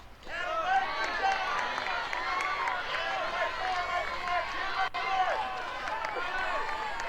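A softball crowd roars steadily in cheering for the Florida Gators during a college softball game against Alabama, a dense sustained wall of voices, clapping and whistles held at a constant loud level throughout.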